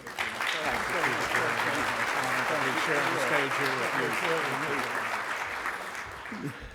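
Audience applause fills the hall at a distinguished service award ceremony as a speaker is welcomed to the stage, a dense, steady clapping that holds for several seconds and tapers slightly at the end.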